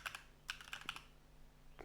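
Typing on a computer keyboard during a coding session, a few quick, close key clicks in short bursts with pauses, fairly faint with no talking.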